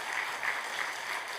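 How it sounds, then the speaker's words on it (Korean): A church congregation applauds during a Sunday Thanksgiving service: a soft, even patter of many hands clapping that carries on steadily, faint and somewhat distant, with no voices. "이 모든 박수는 주님께서 받으셔야죠."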